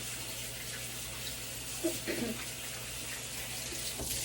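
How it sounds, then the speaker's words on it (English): Hands washed under a running kitchen tap, a faint steady stream of water with a few soft splashes partway through, quiet and alone. "I'm going to wash my hands again"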